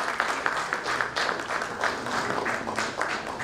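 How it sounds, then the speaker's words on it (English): Applause from the audience after a panel session at a medical event, dense continuous clapping with a slightly uneven pulse, filling the room without speech over it. "can we have a huge round of applause, please?"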